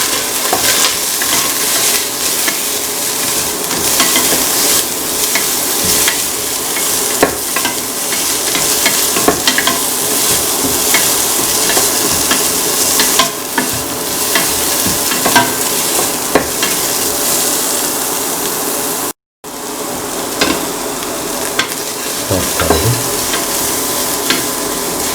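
Onion pieces with salt frying for an egg cracked wheat meal, a loud continuous sizzle close by with repeated scraping stirs of the spatula through the pan, briefly cutting out near the end.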